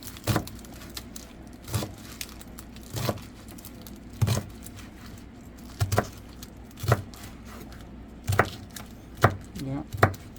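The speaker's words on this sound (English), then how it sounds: "we're going to cut them in small sections" A knife chops vegetables for Spanish sofrito on a cutting board, about a dozen separate sharp thuds spaced roughly a second apart, close and moderately loud over a quiet kitchen background.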